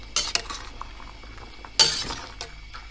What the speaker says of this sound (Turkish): Şöyle bir karıştıracağım.